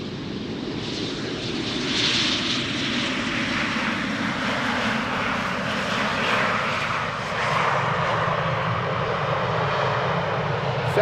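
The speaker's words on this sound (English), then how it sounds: "Right, couple of Embraer 190s." An Embraer 190 jet airliner arriving at Amsterdam Schiphol Airport, a loud steady engine roar that holds for the whole stretch with a slowly shifting whine, heard from a distance outdoors with no talk.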